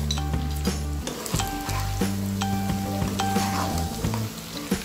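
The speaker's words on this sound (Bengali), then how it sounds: "আমি মশলাগুলোকে মাংসের সাথে ভালো করে মিশিয়ে নিব।" Beef cooking with spices for a black bhuna roast is stirred in a pan, a loud close sizzle with scraping strokes and a few utensil knocks over nearly five seconds.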